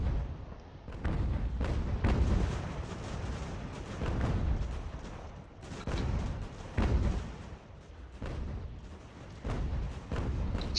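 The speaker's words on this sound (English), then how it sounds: "Now we're getting a little bit of friendly fire in here." Artillery fire in Ultimate General: American Revolution, a steady run of heavy booming volleys and thuds rolling on and off without pause, dense and low, with no voices over it.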